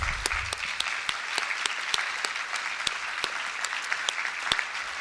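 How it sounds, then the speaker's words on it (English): Audience applause at a Democratic candidate forum for New York District 21, a steady wash of many clapping hands with a few sharper near claps standing out, sustained for the whole stretch without speech. "let's give the candidates one more round of applause"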